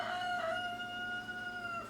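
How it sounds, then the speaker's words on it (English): A rooster crows once close by, a loud sustained tonal call with a wavering pitch that holds for nearly two seconds before tapering off, with no talking over it. "And that, of course, is Jack the Rooster"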